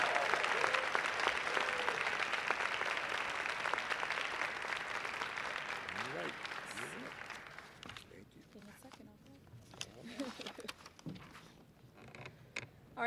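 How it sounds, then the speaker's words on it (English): Sustained applause from a large crowd at a high school National Honor Society induction ceremony fills the first several seconds, then fades into scattered claps, murmurs and rustling. "Can we get another rousing set of applause for our inspirational teachers?"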